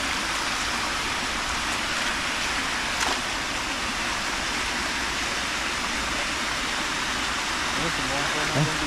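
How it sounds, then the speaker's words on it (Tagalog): Steady, continuous rain falls after a week of nonstop downpour, a dense broadband hiss that holds evenly throughout, with faint low rumbles and a brief bump near the end. "Wala pong tigil ang ulan dito."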